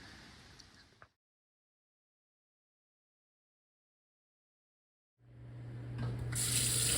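Tap water runs loudly as a turkey is rinsed, a brief burst of splashing cut by a silent gap before the steady, strengthening gush of the faucet returns.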